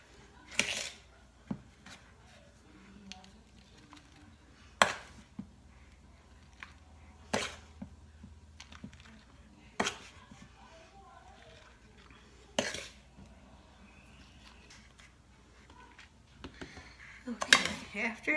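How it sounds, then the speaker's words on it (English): Tablespoon clinking against dishes and silicone molds as mixture is scooped, a series of sharp, separate taps and scrapes spaced a few seconds apart over a quiet background. "We're going to use a tablespoon and put the tablespoon in every silicone mold"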